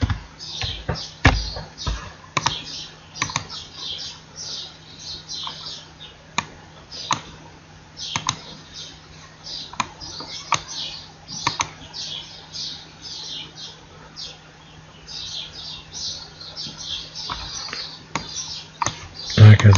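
Rapid keystrokes on a computer keyboard as a crypto wallet address is typed into a registration form, with irregular clicks and short bursts scattered across the whole stretch over faint background hiss.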